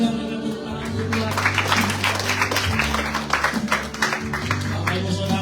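A church congregation applauds with dense, sustained clapping, loud and continuous, while a steady low musical tone holds underneath.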